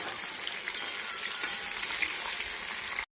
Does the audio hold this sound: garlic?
yes